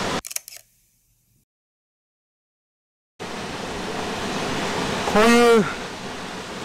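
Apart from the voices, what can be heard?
Ryujin waterfall, Nishizawa Valley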